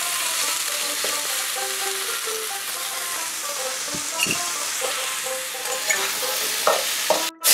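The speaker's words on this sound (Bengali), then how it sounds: "এগুলোকে ছেড়ে আমি 2 মিনিট মতো হালকা নাড়াচাড়া করে নেব।" Four medium potatoes fry lightly in a pan while being stirred, with a steady sizzle under repeated scraping and clinking strokes of the spoon and a few louder knocks near the end.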